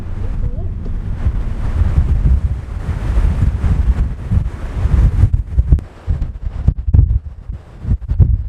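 Loud, steady wind buffets the microphone at Bandit Beach on the Oregon coast, with ocean surf rumbling beneath it throughout, a continuous low roar with gusting surges.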